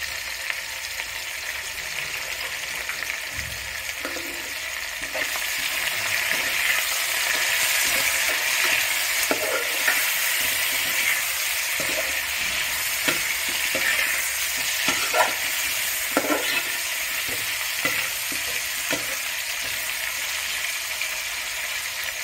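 Tomatoes, cut into large pieces with cherry tomatoes, sizzle and fry in a pan for Nellore fish curry, a steady loud hiss with occasional scraping stirs and small pops throughout, no talking.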